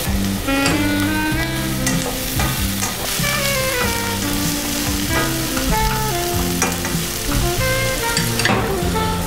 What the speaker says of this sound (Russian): Пока жарится у нас лук